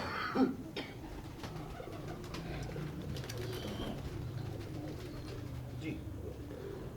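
A Boora pigeon at a pigeon keeper's loft in Wassanpura gives low, soft coos over a steady murmur of background noise, with a short louder note near the start.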